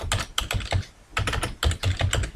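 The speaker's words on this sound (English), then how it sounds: "I'll just type the text data entry" Rapid bursts of keystrokes on a computer keyboard as text is typed into a button in Microsoft Excel 2010, clicking in quick clusters separated by a brief pause, close and clear with no voices.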